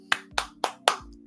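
Four sharp, close hand claps land at an even, deliberate pace, each a crisp slap standing alone over a faint background hum.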